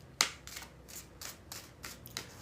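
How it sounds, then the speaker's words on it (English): Tarot cards being shuffled by hand in a quiet room, a series of about six short crisp riffling bursts at an irregular rhythm, close and fairly faint, with no talking. "I need 3 more shuffles."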